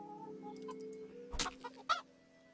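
Chickens in a video game farm scene, a few scattered clucks and squawks over a steady low background drone, quiet and without speech.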